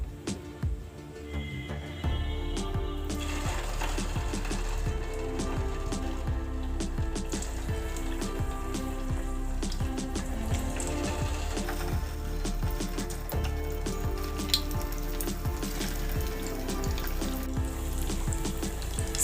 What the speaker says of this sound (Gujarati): તેલ ગરમ થઈ ગયું છે તો વડાને તળી લઈએ.